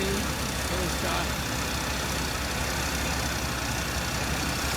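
A 1982 Imperial's engine idles smoothly after a long layoff, a low steady rumble under broadband noise that stays even and unbroken, with speech partly over it.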